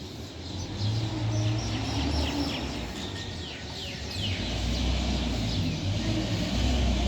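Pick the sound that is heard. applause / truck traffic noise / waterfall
truck traffic noise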